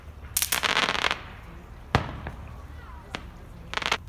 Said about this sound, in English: I'm gonna light up more fireworks.